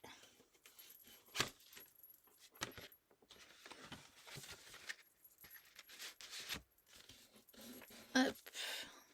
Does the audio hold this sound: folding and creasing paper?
yes